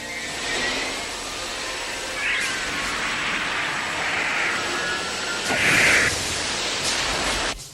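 Spacecraft thrusters engage in the animated film Robotech, a loud, sustained roaring rush that surges in brighter bursts toward the end.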